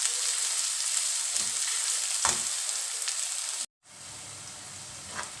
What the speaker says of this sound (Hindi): तेल गरम हो गया है, मैं प्याज डाल देती हूँ।